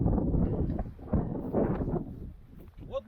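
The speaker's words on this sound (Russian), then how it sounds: "А ветер все не стихает." Strong gusty wind on a lake during rough autumn fishing with waves, buffeting the microphone in close, rumbling bursts, with voices partly under the noise.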